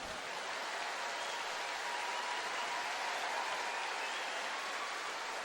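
A curling crowd applauds at the 2011 World Men's Curling Championship, Sweden against Norway, a steady wash of clapping that holds evenly throughout at moderate distance.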